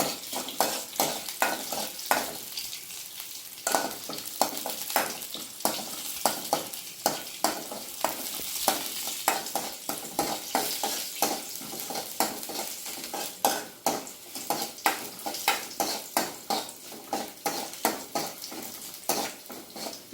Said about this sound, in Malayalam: തവി വെച്ചിട്ട് നമ്മളൊന്ന് ഇളക്കി കൊടുക്കാമെന്നുണ്ടെങ്കിൽ ഇത് വേഗം അങ്ങ് മൂത്ത് കിട്ടും